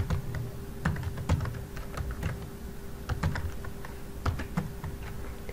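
Text being typed on a computer keyboard, a rapid irregular run of close, sharp key clicks over a steady low room hum, with no talking.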